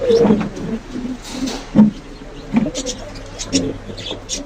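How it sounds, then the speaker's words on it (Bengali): Soft, repeated pigeon coos in short low bursts at a pigeon market shop in Khulna, mixed with a voice talking nearby. "তো আরো কিছু কবুতর আছে আমাদের এখানে"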